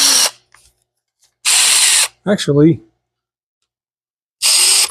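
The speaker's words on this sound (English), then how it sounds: "It was making my drill cut off." A power drill whirs in three short, loud bursts that start and stop abruptly, with a brief spoken word between bursts.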